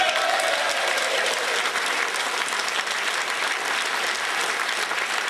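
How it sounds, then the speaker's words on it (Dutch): Sustained, dense applause from a large theatre audience at a Dutch-language revue, steady and loud throughout without pause. "dank u wel voor dit hartverwarmende applaus voor alle mensen hier op het podium"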